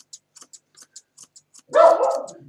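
A Miniature Schnauzer lets out a single sharp, loud bark at close range during head grooming, preceded by soft intermittent clicks of grooming scissors.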